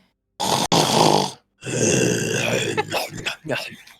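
A human voice imitates a large armored man sprawled asleep in a too-small bed, snoring with long, rasping, drawn-out breaths, loud and up close, followed by a few shorter guttural snorts.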